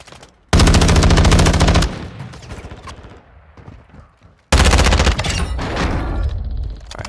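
Automatic gunfire in the video game Warzone 2 comes as two loud, close bursts of rapid shots, a long one early and a shorter one later, each followed by ringing echoes.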